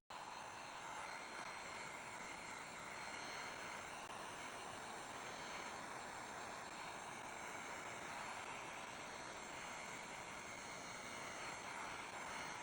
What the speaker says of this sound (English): I'm going to use my heat gun to apply 275 degrees Fahrenheit of heat to my print